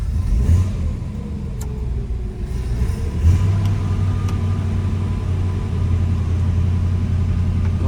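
A 1956 Chevrolet Bel Air hardtop idles close by with a deep steady rumble, and the engine rises briefly in a rev partway through. No one speaks.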